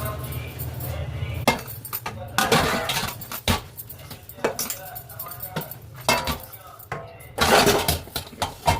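Breakfast dishes, pots and cutlery clink and clatter in a home kitchen sink, with repeated bursts of metal and crockery knocking together up close at an uneven pace.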